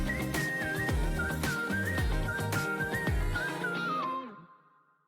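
A clear melodic whistle carries a tune over a full band backing in a K-pop song, then the music fades out at the end.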